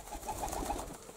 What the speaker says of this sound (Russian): Глупая-глупая птица, Ефрем глуп, как голубь.